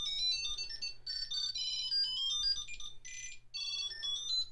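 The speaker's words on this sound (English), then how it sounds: "as you click the find button, your Tile is going to make a lot of noise" A Tile Mate Bluetooth key finder rings out a bright, repeating electronic melody of high chirping tones, close and loud, playing steadily for several seconds with brief gaps between phrases and no talking.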